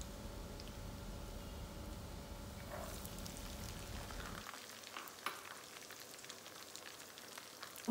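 Garlic and green peas fry in a pan over high flame, giving a faint, steady crackling sizzle that turns thinner and sparser midway, with an occasional light tap near the end.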